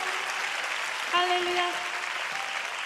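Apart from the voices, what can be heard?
audience applause at a prayer meeting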